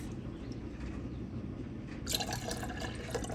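Redbud jelly liquid poured into canning jars, a soft quiet trickle that grows brighter and splashier partway through, faint and close with no talking.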